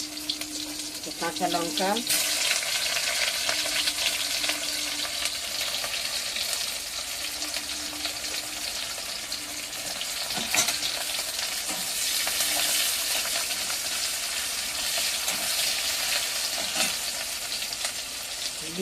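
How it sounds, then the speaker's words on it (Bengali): Chopped onion fries in oil in a wok, a steady loud sizzle with occasional stirring scrapes throughout, while someone briefly speaks near the start. "এবারে কড়াইতে তেল দিয়ে একটু পেঁয়াজ কুচি"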